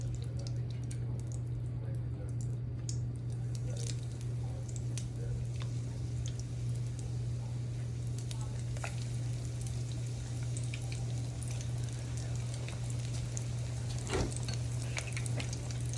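Battered onion rings dropped into hot frying oil, giving a steady close sizzle and bubbling hiss that runs continuously, with a low hum underneath and no talk.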